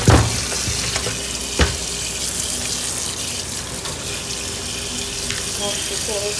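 A kitchen tap runs steadily as food is washed a second time, a constant close rush of water with a couple of brief knocks early on.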